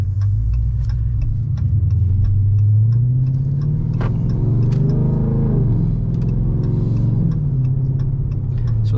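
A 5.7L Dodge Charger engine running in regular mode, a loud low rumble that swells into a brief rev and settles again, with light ticking clicks scattered throughout.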